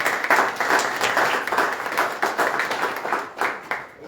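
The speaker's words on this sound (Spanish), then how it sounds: "Un aplauso para Ángela Russo" A seated audience at a literary panel event applauds a speaker with lively, continuous clapping that stays full and close for the whole stretch, with slight surges in intensity.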